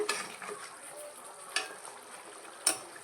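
Vatha kuzhambu being stirred after fried sundakkai is added, a soft low background with a few scraping spoon clinks against the pot, no talk.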